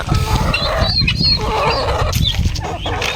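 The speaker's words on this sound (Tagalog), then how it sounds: "May dalawa dito na hybrid turkey." Turkeys, including hybrid turkeys, and other fowl gobble and cluck in a busy, noisy pen, overlapping calls over steady background clatter.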